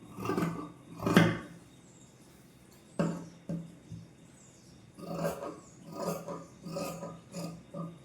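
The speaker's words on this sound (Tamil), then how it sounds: "இப்போ நம்ம இதை வெட்டி எடுத்துடலாம்" Scissors cut through blouse fabric in several separate bursts of crisp snipping and rasping, fairly close, with quiet pauses between cuts and no voices.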